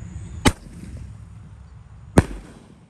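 Small roman candle firework launching outdoors: two sharp separate pops about two seconds apart, each a brief loud burst over a low background rumble.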